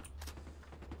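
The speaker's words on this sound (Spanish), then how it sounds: "En una lluvia de disparos." Faint bursts of rapid gunfire in a shooter video game, several quick shots crackling over a low steady hum.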